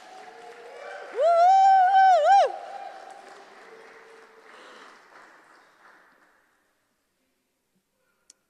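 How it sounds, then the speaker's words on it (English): A loud whoop of cheering rises near the start at a Sunday church gathering during a Christingle service. Fainter audience applause follows and fades out over several seconds into silence. "Can we give them a huge round of applause?"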